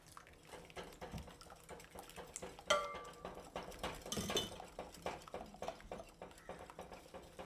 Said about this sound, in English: We're going to whisk it. Just combine your egg yolks and then very, very slowly